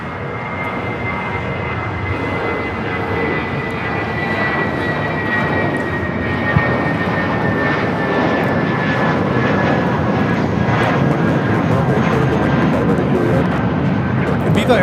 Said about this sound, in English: Viva Aerobus, flight 511, taking off to Guadalajara on the A320.